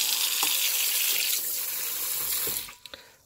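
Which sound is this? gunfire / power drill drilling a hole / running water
running water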